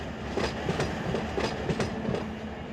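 Freight cars, including a coil car and an acid tanker, roll past in the Run 8 train simulator with a steady rumble and rhythmic clickety-clack of wheels over rail joints, no voices.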